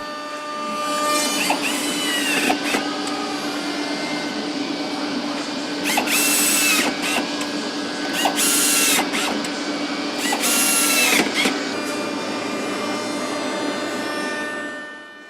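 A power screwdriver drives screws into a glued wardrobe carcass of laminated wood in a factory assembly area, with repeated whirring bursts over steady workshop hum and machinery noise.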